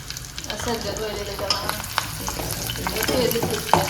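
Ginger garlic paste sizzles and fries in hot oil in a pan, with steady crackling and occasional stirring scrapes, close up.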